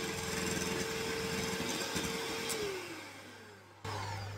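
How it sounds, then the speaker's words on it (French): Electric whisk whipping gluten-free, lactose-free raspberry cheesecake batter, a steady close motor whine that holds loud, drops in pitch and fades slightly, then surges back near the end. "on va venir fouetter tout ça avec un fouet électrique"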